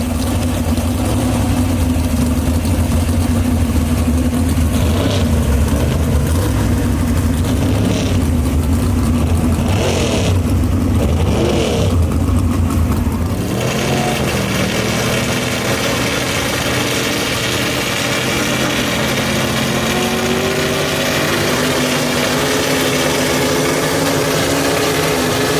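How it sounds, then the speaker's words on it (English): Two big-bodied gasser drag cars at Mooresville Dragway rumble loudly through smoky burnouts, then settle into heavy, lumpy idling and revving that carries on steadily with no talk. "A couple of smoky burnouts right there with the 2 big-bodied cars."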